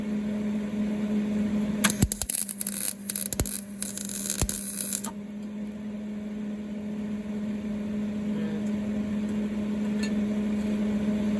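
Wire welding on a muffler delete for a 2004 Saturn Ion, a few seconds of harsh crackling buzz in short bursts, then a steady electrical hum, with no talking.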